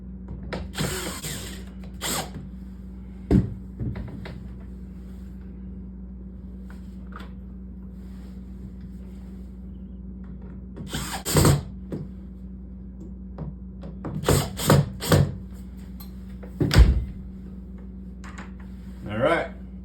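Cordless power drill driving screws low into the frame of a reputable-brand storm door during installation, heard as several short separate whirring bursts with pauses between, alongside a steady low hum.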